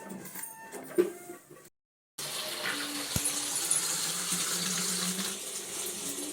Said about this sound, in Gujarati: હવે પાણી ભરી દીધું બોટલમાં